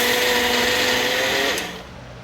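A kitchen mixer grinder blending chopped ripe bananas whirs loudly at a steady pitch, then cuts off and winds down near the end, with no talk.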